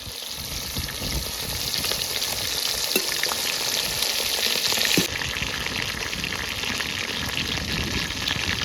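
Red bhola sea fish deep-frying submerged in hot oil gives a steady, dense sizzle and crackle, loud and close, continuing without a break and with no talking.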